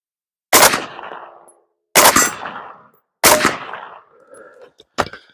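Three loud, sharp gunshots spaced about a second and a half apart, each with a ringing decay outdoors, followed by a faint metallic clack as the last rounds are fired.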